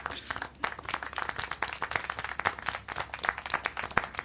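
Quick clapping in a steady, fairly close patter runs throughout with no voices over it.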